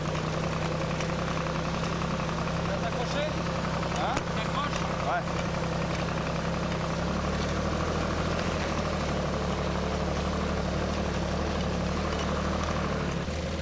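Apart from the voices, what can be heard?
vineyard tractor engine running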